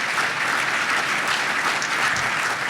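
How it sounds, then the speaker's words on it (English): Steady, dense applause from a conference audience welcoming economic forecast panelists, loud and continuous throughout with no pauses. "Can you give them a big round of applause as well?"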